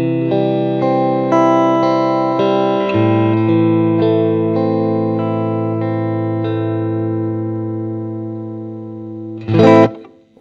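Electric guitar played through a guitar amplifier with the volume set around 3, ringing sustained chords with a clean, slightly effected tone that fades out, ending in a short loud burst of noise.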